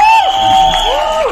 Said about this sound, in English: Ladies and gentlemen, can you please give him a big, big, big round of applause?